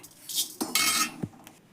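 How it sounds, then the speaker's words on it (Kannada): Roasted garam masala spices are scooped out of a pan, heard as a few close metallic scrapes and clinks of a spoon against the cookware, with short pauses between strokes. "ಇವು ಅಕ್ಕಿನ ಹುರಿದಾವ ತೆಗಿತೀನಿ ನೋಡ್ರಿ ಈಗ"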